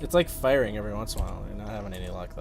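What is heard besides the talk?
None of the usual background noises is heard.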